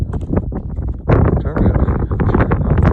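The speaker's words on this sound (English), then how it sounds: "This wind is really nasty up here." Strong wind buffets a microphone on a snowy mountain ridge in winter, loud and gusty with continuous low rumbling and rough bursts, close and harsh throughout.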